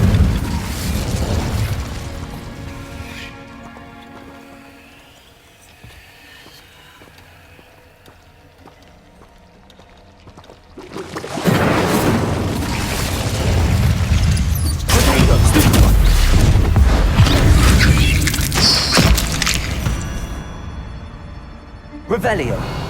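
A fire spell cast in Hogwarts Legacy: loud whooshing roars and booming bursts of flame swelling and lingering for several seconds after a quieter stretch, with a voice speaking over the effects.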